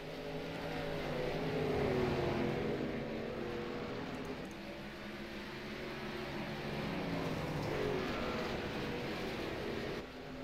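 Race trucks circling the Eldora dirt track, a distant, muffled engine drone rising and falling in long waves as they pass, faint and continuous with no talk.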